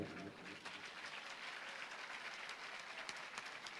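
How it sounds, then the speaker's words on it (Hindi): An audience in Khandwa applauds as the cover of Dr. Alok Sethi's sixteenth book is unveiled, with continuous, fairly distant crowd clapping that holds steady throughout and includes a few sharper individual claps. "जैसे ही पुस्तक का कवर खुले आप सबकी तालियां बिना कहे आनी चाहिए"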